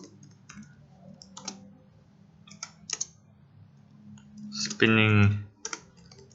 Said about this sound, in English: type in Vuforia